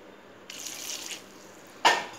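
Water poured from a vessel into a cooking pan of seasoned drumsticks for a fry, a brief soft splash followed by a sharper second pour, close and quiet with no talking.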